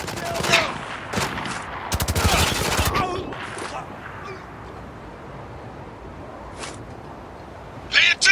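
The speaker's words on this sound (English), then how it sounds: "Taking some heavy fire here!" Heavy gunfire in the Spec Ops The Line video game: bursts of automatic fire in the opening seconds, then a quieter stretch with a few scattered single shots and a short burst at the end.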